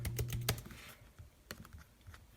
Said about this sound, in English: we're going to type in /send one more time